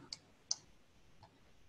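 A computer mouse gives two quick, faint clicks close together, followed by a softer third tick, against quiet room tone.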